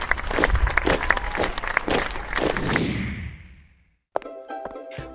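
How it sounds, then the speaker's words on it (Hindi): An audience at a school Republic Day parade claps for the children, a dense patter of hands for about three seconds that fades out, followed by a short burst of other noise after a brief silence. "स्टेज पर मौजूद सभी लोगों ने बच्चों को एनकरेज करने के लिए तालियां बजाई।"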